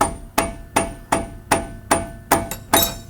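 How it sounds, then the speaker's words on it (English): Dead blow rubber mallet tapping a suspension part on a 2025 Toyota Tacoma, seven evenly spaced, solid close thuds about every 0.4 seconds, heard alone. "we're using a dead blow, so it's just a rubber mallet"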